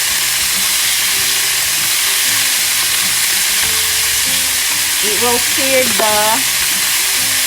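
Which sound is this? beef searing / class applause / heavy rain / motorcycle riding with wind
beef searing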